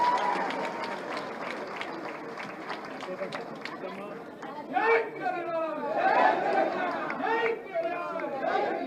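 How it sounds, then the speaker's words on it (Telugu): Applause from an audience at a BRS political gathering in Jawahar Nagar, steady clapping through the first half, then a speaker's amplified voice and crowd chatter over continued clapping. "గట్టిగా చప్పట్లు కొట్టు"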